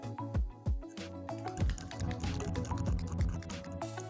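Liquid sloshing and dripping as powdered milk is mixed into milk inside a baby bottle, a close, steady wet churning with a few louder splashy bursts, no voices.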